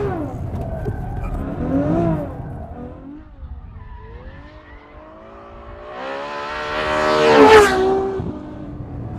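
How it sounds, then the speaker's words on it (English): Ferrari F12 engine revving hard under throttle, then rising tire squeal as the car oversteers and skids, loud and close with a sweeping engine note. "We give it a little bit of gas. Oh, and it oversteers quite a lot."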